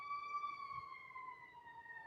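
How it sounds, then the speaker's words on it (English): A siren wails outside in the background, faint and distant, holding steady tones that slowly drift downward. "I'm sorry about the siren in the background,"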